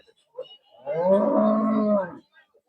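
A cow at a cattle market in Karad lets out a single long, deep moo lasting about a second, close and clear, with faint background sounds around it.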